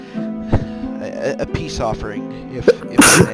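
A sudden sneeze bursts out near the end, close and loud, after people speaking over a background of steady music.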